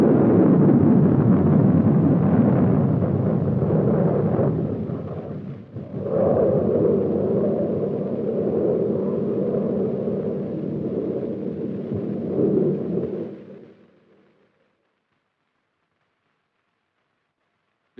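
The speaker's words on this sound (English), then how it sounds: "An Army Nike Hercules was to go against a target of equal power and speed, another Nike Hercules missile" A Nike Hercules missile launches at White Sands Missile Range with a deep, loud, sustained roaring rumble that wavers, then fades away to silence.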